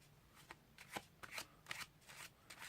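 Playing cards shuffled by hand at a close-up card table, several short crisp riffles and snaps in quick bursts, quiet and near, with no talking.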